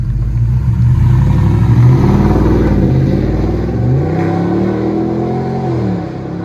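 Exhaust of a 2022 Ford F-350 with a 7.3L gas V8, fitted with a Y pipe, black Widowmaker exhaust and a 6-inch tip, revving loud and close, with a deep rising and falling drone that swells and eases over several seconds.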